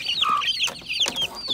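A hen and one-month-old chicks clucking close by, a mix of soft repeated clucks and higher peeping calls overlapping in a busy, continuous cluster.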